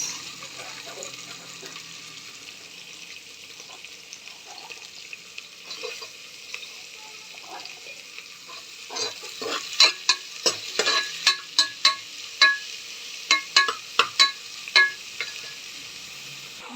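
Onions sizzle in a pan with ginger paste and salt, and a utensil stirs them. A steady frying hiss runs throughout, joined near the end by a series of sharp scraping stirs.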